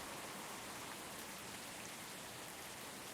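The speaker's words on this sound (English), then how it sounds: "Could be because it's raining so hard." Heavy rain in the Tower! Simulator 3 airport game, a steady, dense hiss of rainfall that stays even throughout and plays alone with no voices.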